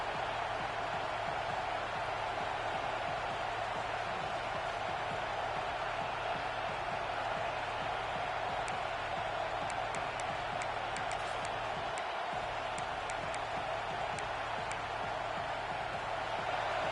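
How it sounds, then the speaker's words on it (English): A football stadium crowd roars continuously during a college game, a dense, steady wash of cheering and noise that fills the whole stretch without letting up. "And the crowd coming to life here, trying to help this defense down in the red zone."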